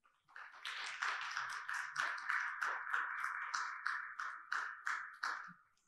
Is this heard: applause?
yes